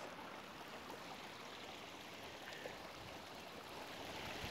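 A mountain stream swollen by heavy rain flows beside a hiking trail, a steady broadband rush of water that stays even and fairly distant, with no voices.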